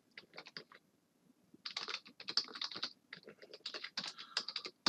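Java code being typed on a computer keyboard, with dense bursts of rapid clicking keystrokes in irregular runs and short pauses, close and fairly loud.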